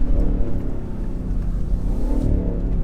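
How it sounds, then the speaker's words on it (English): Supercharged V8 of a Land Rover Defender P525 revving hard, a loud, dense exhaust roar with rising and falling throttle surges held steady close by for about three seconds, no talking. "Oh, that exhaust."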